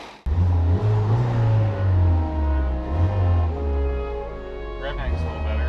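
A Ford ST car engine with a limited-slip differential revs hard and pulls in first gear, loud and close, its tone rising and falling through several surges under steady engine drone.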